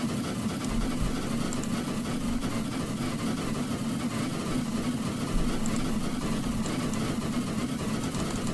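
Steam engine of a K1/K2 locomotive in a train simulation game, a steady low rumbling drone with constant mechanical texture throughout, fairly loud and continuous with no talking.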